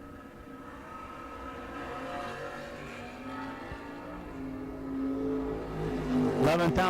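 Drag racing door cars, a 1967 Chevy and a Monte Carlo SS, accelerating at a drag strip duel; a steady engine drone builds, then swells into a loud, rising rev near the end.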